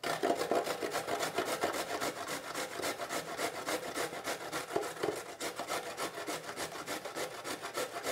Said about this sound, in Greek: Τρίβουμε το καρότο.